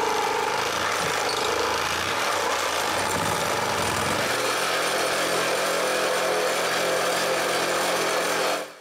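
Power tool cutting through a plywood floor in a cottage, a continuous harsh grinding buzz that runs loud and unbroken for the whole stretch before cutting off abruptly at the end.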